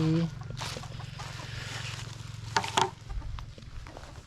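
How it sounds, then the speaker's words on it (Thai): Chickens clucking outdoors on a morning farm outing, a couple of close, short clucks over a steady low engine-like hum, with a person speaking nearby. "ไก่"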